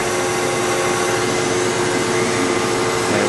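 A CNC vertical drill and bore machine's spindle head travels up to its home position with a loud, steady, unbroken motor whir and rush that stays level throughout.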